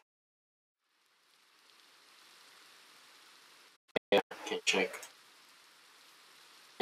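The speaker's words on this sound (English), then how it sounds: "Rain." Rain falling in Minecraft, a soft steady hiss that fades in after a second of silence and cuts out abruptly, followed by a short burst of speech.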